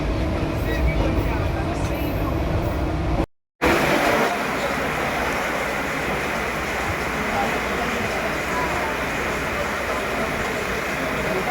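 A train rumbles along in a steady, dense roar from inside a carriage on the way to Mumbai Central, with muffled voices in the background and a short silent gap.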